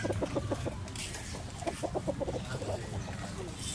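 A stag, a young gamecock rooster, clucking in short repeated bursts, nearby and moderately quiet over background farm ambience.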